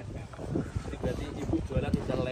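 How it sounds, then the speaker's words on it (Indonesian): Strong wind buffets a microphone outdoors at a roadside pecel pincuk food stall, producing a steady, rough broadband roar with gusty surges throughout, partly under a voice. "Waduh, semeriwing mbak angin ini mbak."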